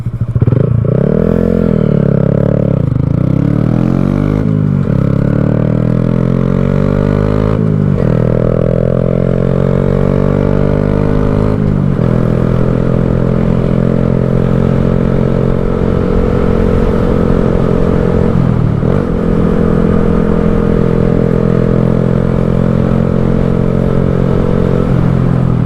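A 2020 Honda Grom motorcycle rides steadily, its small single-cylinder engine droning loud and close with shifting revs and occasional dips as the rider changes speed.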